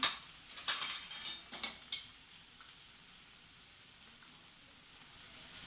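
Tomato being sautéed in a pan for dahi paneer, with a few sharp spatula scrapes and clinks against the pan early on, then a soft continuous sizzle alone.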